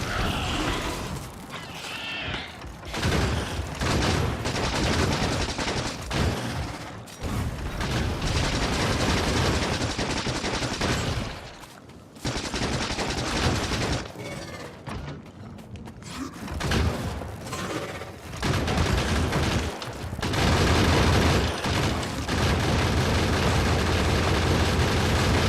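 Dense, continuous game combat noise from Factorio, with grenade explosions and rapid turret gunfire layered into a loud, churning wall of sound that briefly drops out a few times.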